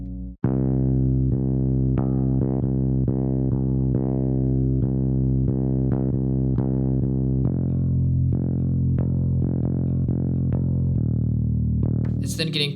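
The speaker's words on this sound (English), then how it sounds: "I have another bass layer that's kind of working as somewhat of a live bass." A live-style bass layer from a Kontakt instrument plays a steady run of plucked, sustained notes, the pitch dropping lower around the middle and rising again near the end, loud and alone with a brief noisy burst at the close.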